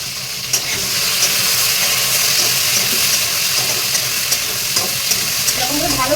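Fish curry with cucumber being stirred in a pan, a steady close sizzle and bubbling with soft scraping strokes running throughout.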